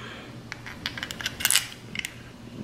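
A small metal socket dropped down into place on a Ninja 400 motorcycle during a front brake change, giving a few light, close metallic clinks and rattles with no talking.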